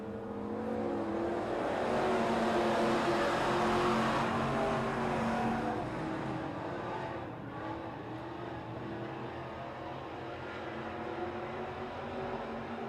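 Race cars roar through a heat race at Silver Dollar Speedway, a dense, steady engine drone that swells and then eases slightly as the pack circles, heard from a distance with no talking.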